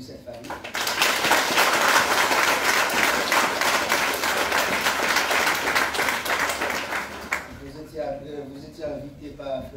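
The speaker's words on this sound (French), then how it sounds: "Je demande à l'église d'applaudir cette famille." A church congregation applauds a family during a morning service, a steady broadband burst of clapping lasting most of the moment before fading into speech.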